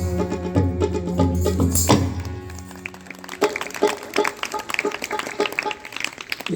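An audience at an Arya Samaj Vedic devotional bhajan program at a gurukul breaks into scattered, then fuller clapping once the music fades out, with applause filling the second half.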